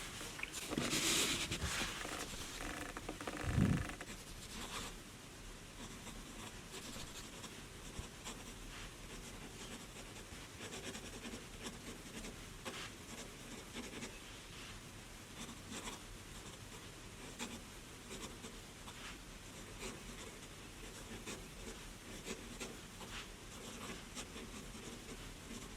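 A Faber-Castell Sparkle Ocean edition fountain pen's steel nib scratches softly across paper, a faint, steady, close rustling with no voices.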